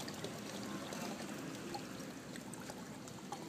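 Gin poured from a bottle into a mixing container, a soft steady trickle of liquid running continuously and fairly close, with no talking over it.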